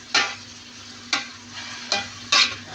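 Chicken being stirred in a pan while it cooks, four distinct scraping strokes at uneven intervals over a faint background sizzle, with no voices.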